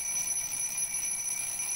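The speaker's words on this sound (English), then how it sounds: "Let's burn the alarm clock first." An alarm clock rings steadily and continuously as it burns in the fireplace of the video game Little Inferno, a high, even tone with no voices over it.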